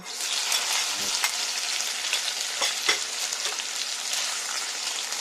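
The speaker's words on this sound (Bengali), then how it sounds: "এই তেলেই নুন হলুদ মাখানো চিংড়ি মাছগুলো দিলাম" Prawns coated in salt and turmeric fry in hot oil, producing a close, steady sizzle with scattered crackles and pops and no speech.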